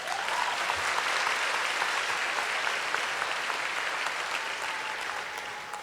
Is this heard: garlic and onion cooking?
no